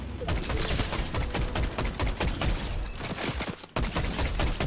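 Rapid gunfire from a minigun-style weapon in the Fortnite video game, dense continuous bursts of shots filling the whole stretch, loud and close, with a brief gap near the end.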